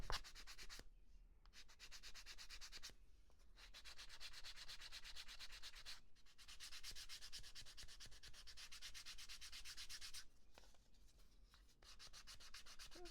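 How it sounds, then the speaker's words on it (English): Two small wood pieces are sanded by hand, with rapid repetitive rubbing strokes in bursts separated by brief pauses, close and fairly quiet. "and sanding those 2 pieces"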